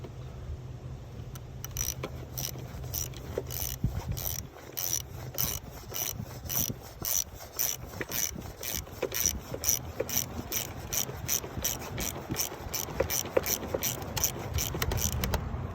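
A hand ratchet tightens the terminal clamp on a car battery during a mobile battery installation, giving a steady run of close, rapid clicking pawl strokes that continues throughout with no talking.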